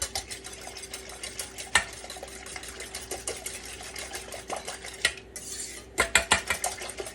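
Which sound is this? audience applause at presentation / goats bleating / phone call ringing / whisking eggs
whisking eggs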